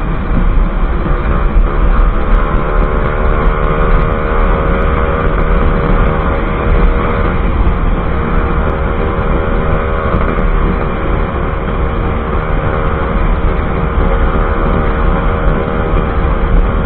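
A motorcycle engine drones steadily and loudly while riding on the road, with constant wind and road rush and no talking.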